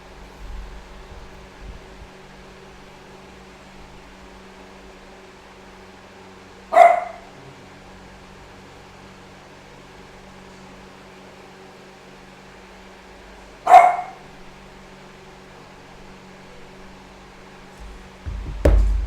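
Dogs in a home bark in three loud single yips spaced several seconds apart, close by, over a quiet background hum with no talk.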